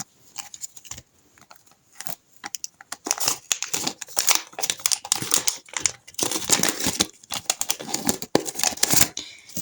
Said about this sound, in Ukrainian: давайте відкриємо ось такий ось пакетик з Hello Kitty